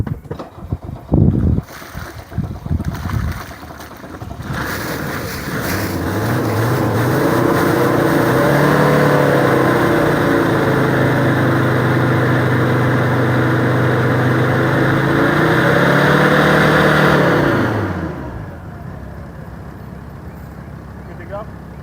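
A 1984 Mercedes W126 diesel engine runs while water is flushed through its sooty muffler: a loud, steady engine drone holds for about thirteen seconds, its pitch wavering, then dies away. Short bursts of noise come before it.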